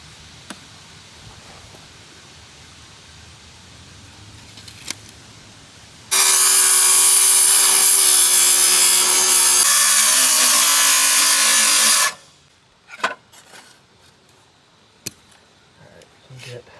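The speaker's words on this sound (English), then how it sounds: "we got to cut this down 3 inches below the floor" A saw cuts through plumbing pipe below a floor in one loud, steady six-second burst, with quieter handling noises and knocks before and after.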